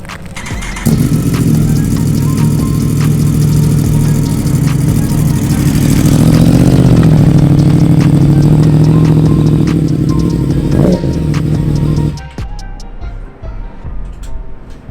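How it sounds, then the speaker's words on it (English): A motorcycle rides up into an enclosed trailer, its engine a loud, close, steady drone that swells midway and then cuts off, followed by quieter rattles. "I'll actually ride the bike in here for you real quick so you can just see how I load it."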